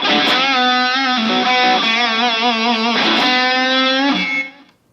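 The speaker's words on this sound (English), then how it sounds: "and the high gain lead sound." Enya Inspire smart electric guitar playing a high-gain lead tone through its built-in speaker, loud and saturated, held notes with sustained bends and a few changes before fading out.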